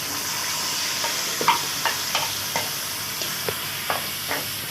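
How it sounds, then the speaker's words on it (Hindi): Tomatoes and green chillies fry in a karahi over a wood fire, a steady close sizzle broken by about a dozen soft scraping stirs spaced at irregular intervals. "अभी डालते हैं इसमें टमाटर और हरी मिर्च।"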